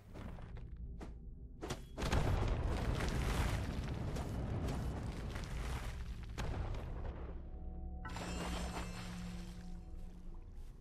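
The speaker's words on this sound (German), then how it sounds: "Ach, auch wenn ich an den Totems ranlaufe, explodieren die" Totems exploding in the video game Dwarven Realms: a string of heavy thuds and booms, some isolated and sharp, others blending into a sustained rumbling roar, fairly quiet overall with no talking.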